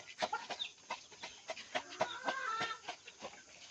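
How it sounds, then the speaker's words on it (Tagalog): Farm chickens cluck in a quick, uneven series of short calls, fairly faint and a little distant, with no talking. "Ito yung mga manok natin, ginapakain natin araw-araw."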